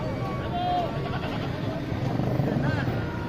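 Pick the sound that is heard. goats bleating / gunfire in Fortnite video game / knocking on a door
goats bleating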